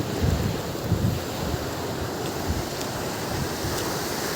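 Sea waves at Pondicherry beach wash in with a steady, broad surf roar, some wind buffeting the microphone, continuous and fairly loud with no voices.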